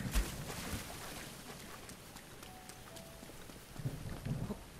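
Rain and thunder from a thunderstorm with lightning in the video game The Legend of Zelda: Breath of the Wild, a steady wash of rainfall with low rumbling swells near the start and end, without any talk.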